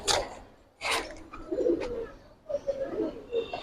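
Giribaz pigeons coo softly and close by, a few short breathy bursts followed by low, rolling coos repeated in a loose rhythm, with no one speaking.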